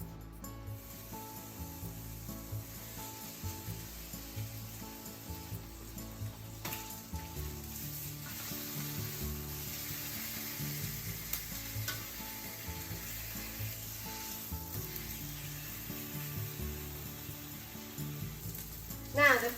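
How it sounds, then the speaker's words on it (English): Chicken skin frying in a frying pan over medium-high heat to render its fat: a quiet, steady sizzle with occasional scraping and stirring sounds, continuing throughout, with soft background music beneath. "Heat up frying pan over medium-high heat and put the chicken skin first to get the oil."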